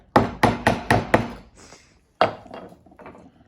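A wooden piece tapped into a groove along a score mark during furniture making: five sharp, evenly spaced knocks in quick succession, a short pause, then one more knock followed by lighter scraping.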